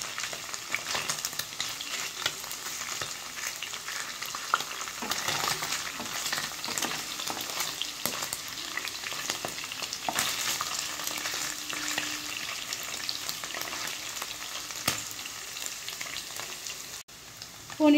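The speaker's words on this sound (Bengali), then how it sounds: "পনির এই পাশটা আমার হয়ে গেছে, ওই পাশটা একটু উল্টে পাল্টিয়ে দিচ্ছি।" Paneer fries in oil in a pan and is turned over, a steady crackling sizzle running throughout with occasional faint scrapes, close and moderately quiet, with no speech.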